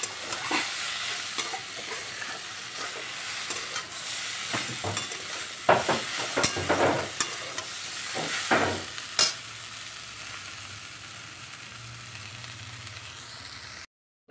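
A vegetable frying with salt and turmeric in a pan, a continuous sizzle broken by a run of sharp spatula scrapes and taps midway, then settling back to an even hiss.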